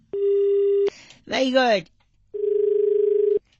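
A loud, steady electronic telephone tone sounds after a call is cut off, stops for a man's brief exclamation, then returns as a slightly pulsing tone for about a second.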